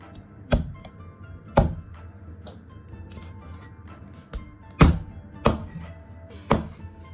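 A cleaver chops the feet off a whole chicken on a board, six or seven sharp separate thunks spaced unevenly, close and fairly loud over a quiet background.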